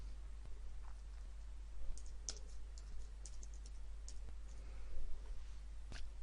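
A computer keyboard and mouse being used to retype an Excel chart title, with light clicks and taps scattered through quiet, near and soft, with a few louder keystrokes.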